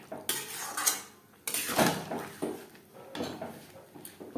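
Scraping and clinking of a spoon stirring a ground paste of milk, dry-roasted peanuts and charmagaz seeds in a pan, for matar paneer; several close, uneven bursts of metal on metal with brief pauses and no talk.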